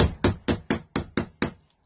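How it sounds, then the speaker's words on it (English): A rawhide hammer gently taps brass sheet resting on a steel block, seven light, evenly spaced knocks about a quarter second apart, close and clear with no talk. "I'm going to take my rawhide or non-metal hammer, I'm going to put my brass on my steel block and I'm just going to very gently tap it"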